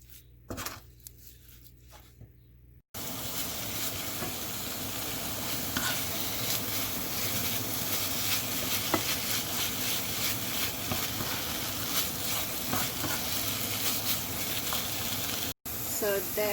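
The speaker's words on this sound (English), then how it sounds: "we're just gonna cook this until combine and thicken and caramelize" A pumpkin filling with sugar, cinnamon and allspice cooks down and caramelizes in a pan, a steady close sizzle with soft stirring scrapes that starts after a quiet moment and runs unbroken.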